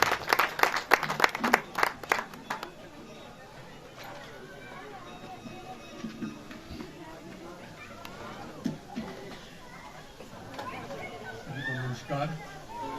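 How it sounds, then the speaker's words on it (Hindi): Applause from an audience welcoming a speaker to the stage at a commemorative gathering at Jyeshtha Mata temple in Srinagar, with loud clapping at the start that fades into a lingering crowd murmur and scattered claps. "जोरदार तालियों से स्वागत कीजिए"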